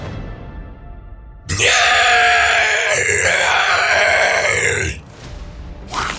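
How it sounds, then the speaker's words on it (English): A man lets out a long, loud, raw scream as ghouls attack in a dark fantasy audio drama, sustained for several seconds over a low rumbling backdrop, then cutting off. "his scream shatters the silence"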